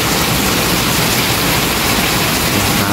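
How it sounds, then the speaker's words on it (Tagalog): Heavy rain pours down in a dense, steady roar that fills the whole scene, loud and close with no voices over it. "Nakakita nyo yung lakas ng ulan na yan."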